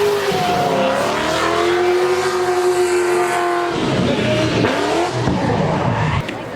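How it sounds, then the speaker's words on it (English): At an outdoor Ford car show, a car revs hard and holds a loud, sustained engine howl with shifting pitch during a burnout. It gives way to a rougher, noisier roar of tires and engine. "The older cars are coming to see everybody doing burnouts and drifting."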